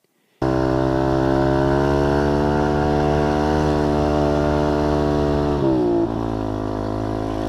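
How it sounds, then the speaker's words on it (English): A dirt bike engine roars loud and close, holding a steady throbbing drone before the pitch dips and shifts near the end as it settles back, with no voices. "Even with the roar of the engine"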